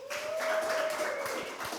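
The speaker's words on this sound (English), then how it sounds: "Please give a round of applause for Mario Atkins, Julie Skinner, and Landon Whitmer from Accessibility Services." Audience applause at a seminar, a steady, moderate wash of many hands clapping that holds throughout, with a sustained tone ringing faintly underneath.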